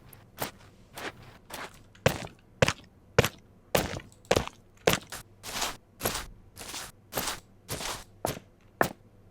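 Footsteps on sand, built as adaptive game foley in FMOD and Unreal 4: a steady, even run of crisp, gritty steps, close and clear with nothing else heard.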